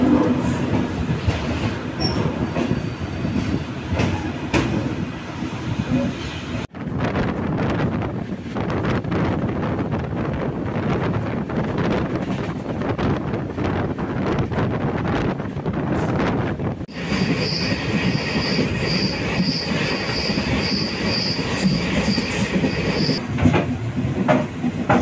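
Pearl City Express train running from Chennai Egmore to Thoothukudi, a steady loud rumble of wheels on rails with wind noise and a faint high squeal near the end, heard from on board.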